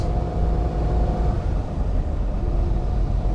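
A warmed-up 1957 Ferrari 250GT Low Roof Boano engine runs steadily at close range, a constant low rumbling hum with no voices over it.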